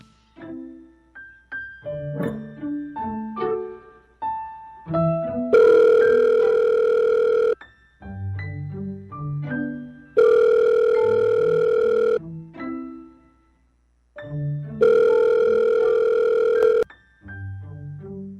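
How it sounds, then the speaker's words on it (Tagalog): A mobile phone call in a Filipino drama: a quick series of electronic tones, then a loud repeating ringback tone in three long bursts with short gaps between them. "Ay, kunin ko lang yung cellphone ko. Tawagan ko siya."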